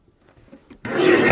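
A single sheet of gold paper is cut on a paper trimmer: after a quiet moment, a loud, close scraping rasp of the blade runs through the paper for about half a second.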